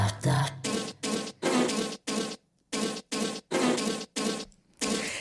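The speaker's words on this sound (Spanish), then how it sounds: "nos despedimos a ritmo de zumbido de abejas" Bee buzzing within a musical piece, set in rhythmic pulses: loud droning bursts alternating with short silences in a steady, repeating pattern.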